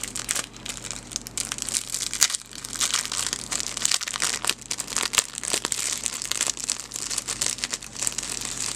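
A bag crinkles and rustles continuously up close as small items are pushed back inside, with irregular crackling bursts and no voices.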